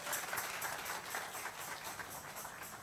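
A church congregation at an evangelistic service applauds together, a dense, fairly faint wash of many hands clapping with a loosely rhythmic patter throughout the short moment, no voices.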